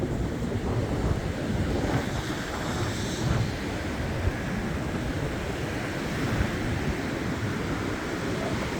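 A winter wind storm roars on a hilltop, a loud, constant rushing gust that buffets the microphone, heavy and unbroken from start to finish, with no voices.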